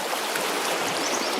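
Clear river flowing in a steady, close rushing wash, even and unbroken for the whole short stretch, with no voices.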